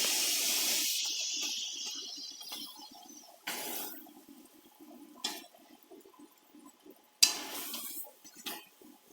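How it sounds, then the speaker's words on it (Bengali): Pitha batter dropped into hot oil: a bright hissing sizzle that fades into a quieter crackle, with fresh bursts of spitting oil recurring every few seconds. "আমি তেল গরম করে নিয়েছি এবার পিঠা দিয়ে দেব"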